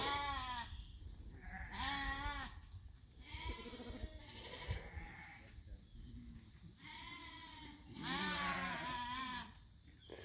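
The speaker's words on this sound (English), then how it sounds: "look at the sheep out there" Sheep bleat repeatedly outdoors, several overlapping wavering calls close by, with brief pauses between them and a steady low background rumble.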